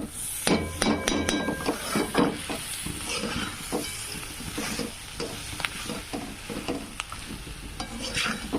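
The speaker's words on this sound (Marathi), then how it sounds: "थोडेसे फ्राय होऊ द्यायचे" Eggplant fries in a pan for a gravy dish, a low sizzle punctuated by sharp spatula knocks and scrapes against the pan, fairly close and irregular.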